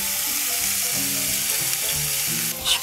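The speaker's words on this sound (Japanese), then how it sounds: "お肉を焼いていきましょう。" Thick slabs of meat grilling on a hot surface, producing a loud, continuous close-up sizzle with a brief rustle near the end.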